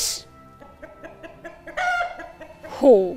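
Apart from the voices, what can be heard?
rooster clucking and crowing in a stage play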